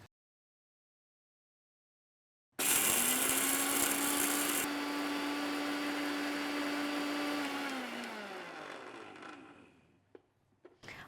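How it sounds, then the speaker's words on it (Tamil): Kitchen mixer grinding cumin and other spices into powder: silence, then a loud, steady motor whir for about five seconds that winds down gradually, followed by a few faint knocks. "இப்போது இதையெல்லாம் சேர்த்து அரைச்சி நான் பவுடர் பண்ணிக்க போகிறேன்."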